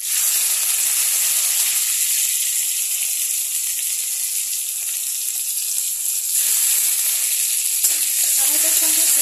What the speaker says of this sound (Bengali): পেঁয়াজ কুচির সঙ্গে আমি একসাথে টমেটো কুচিটাও দিয়ে দেবো।